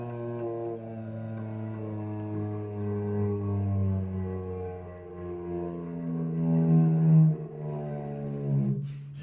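A cello sustains a low, droning bowed tone with gentle swells, imitating a passing airplane, steady and continuous for several seconds.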